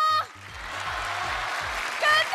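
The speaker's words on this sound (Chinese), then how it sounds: "掌声别停啊！" A studio audience applauds on a CCTV talent show stage, a broad, steady wash of clapping heard between short stretches of a voice at the start and end.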